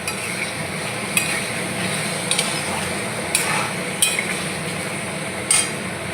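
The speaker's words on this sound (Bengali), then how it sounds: "পনির ভিতর দিয়ে আলতো করে মশলার সঙ্গে আলুর সঙ্গে আমি এইভাবে হালকা করে নেড়ে নিচ্ছি" Paneer and potatoes with spices are stirred gently in a pan over a steady frying sizzle, with occasional light clinks of a spoon against the pan, close up and with no talk.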